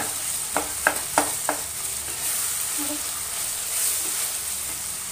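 Tomatoes sautéing in a pan for vegetable upma, a soft constant sizzle broken early by four sharp spoon knocks against the pan, then quieter stirring, close by with no talk.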